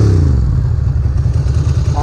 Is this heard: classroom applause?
no